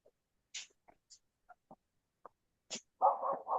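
A black dog barks in short separate yaps spread across a few seconds outdoors, ending in a louder, rougher burst of barking close by.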